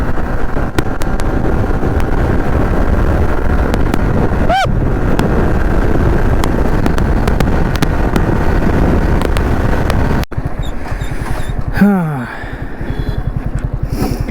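Racing blue Yamaha R15 v4 motorcycle ridden at speed, a loud sustained engine drone under heavy wind rush, with a rising gear change, a brief drop and another revving climb near the end.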